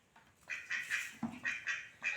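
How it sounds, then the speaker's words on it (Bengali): Domestic duck walking about indoors in a home, giving a series of nasal quacks in short bursts, fairly close and moderately loud, with a faint voice briefly in the background. "এ কি হাঁসটা হাঁটছে তো ঘরের মধ্যে"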